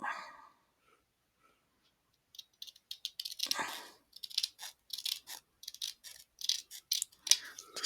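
Scissors trim a strip of craft material for a grungy bee project. After a near-silent start, a run of short, crisp snips and clicks follows close by, quick and irregular, with no talking.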